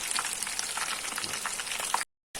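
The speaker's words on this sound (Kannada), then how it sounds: "ಫಸ್ಟ್ ಕ್ಲಾಸ್ ಆಗಿ ಫ್ರೈ ಆಗಿದೆ." Chicken kabab pieces frying in hot oil, a steady dense crackling sizzle that runs continuously before a brief cut to silence.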